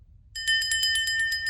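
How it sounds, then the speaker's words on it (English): A small metal hand bell is rung rapidly, giving about ten bright, ringing strikes in a quick, even run that sustain a clear metallic tone, close and fairly loud, over a low background hum. "I'm going to ring my little bell."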